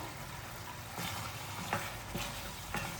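Eggplant bubbles and sizzles in a simmering ennai kathirikai gravy, a steady crackling hiss close by, with a few soft stirring knocks.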